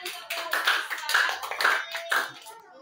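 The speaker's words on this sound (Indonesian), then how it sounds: "Beri tepuk tangan untuk kelompok visual." Clapping from a group in a classroom or training session, applauding a student team after their presentation; bursts of hand claps come in uneven waves, fairly close and moderately loud.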